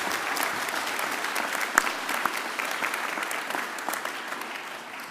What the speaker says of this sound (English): can you give Jacinta and Casey a round of applause as well?